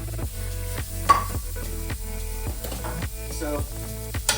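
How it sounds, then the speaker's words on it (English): Onions sweating in a cast iron pan give a steady soft sizzle with light stirring scrapes throughout, backed by a faint musical hum. "we'll go ahead and sweat our onions down a little bit"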